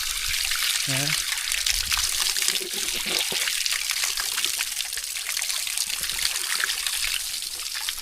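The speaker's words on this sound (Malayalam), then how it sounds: "നിങ്ങൾ കണ്ടത് മലമുകളിൽ നിന്ന് വരുന്ന വെള്ളമാണിത്" Water from a mountain spring in Nepal trickles and splashes steadily, close by, with a person's voice briefly heard over it early on.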